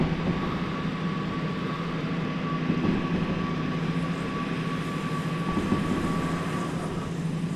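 A train rumbles along in a video game just before a crash, a steady droning engine hum with a constant tone, moderately loud and unbroken, no voices.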